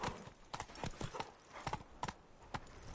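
In The Witcher 3 video game, the horse Roach's hooves clip-clop in a quick, uneven rhythm of sharp knocks. They sound close and clear, with no talking over them.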